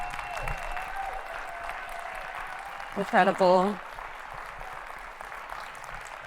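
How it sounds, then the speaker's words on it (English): Applause from a literary conference audience after a poetry reading, a steady hiss of clapping running under a brief spoken exclamation midway. "Give them a round of applause."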